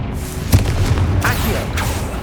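A Confringo blasting spell explodes in Hogwarts Legacy, one sharp boom near the start followed by rumbling debris and busy game sound that stays loud throughout.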